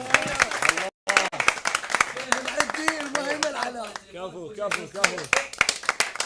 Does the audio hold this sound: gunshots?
no